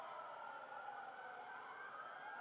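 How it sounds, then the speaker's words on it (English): Sirens on a nearby highway wail steadily in the distance, a continuous faint rising-and-falling tone with no other sounds over it. "Wow, that's actually a lot of sirens"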